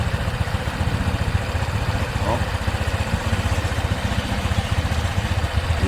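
A Keeway Icon 110cc scooter engine idles with a steady, rapid putter, close by, while someone briefly speaks over it.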